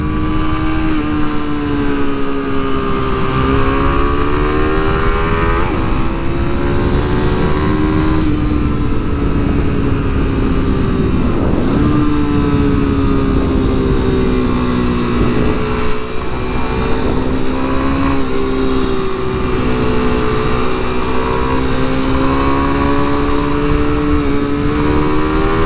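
A 2023 Kawasaki KLX300 SM single-cylinder motorcycle engine revving hard up to its rev limiter, a loud, close, continuous buzzing whine with rising and falling pitch and no talking.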